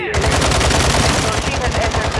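Rapid gunfire in a video game, attributed to a sniper, fires as a loud, dense string of close, evenly spaced shots with no pause.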